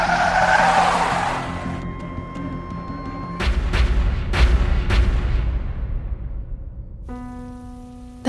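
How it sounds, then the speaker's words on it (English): Sound effects of a car attack: a long screech of skidding tires, then a series of loud, sharp gunshots and rumbling impacts, ending with tonal ringing and a final abrupt hit. "That day, Victor Luciano's car was attacked"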